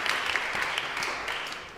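A studio audience on a talk show breaks into brief, busy applause, a short dense burst of clapping that holds at a moderate level.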